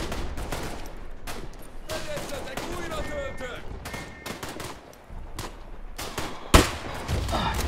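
Bolt-action rifle fire in the WWI shooter Tannenberg: repeated sharp gunshots and bursts of battle fire, near and distant, with one loud close crack near the end, while a player talks throughout.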